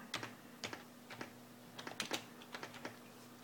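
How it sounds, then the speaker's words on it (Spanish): A command is typed on the keyboard of a ZX-Uno computer: a run of crisp, close keystrokes in small irregular bursts with short pauses, over a faint steady hum and no talking. "teclear este comando"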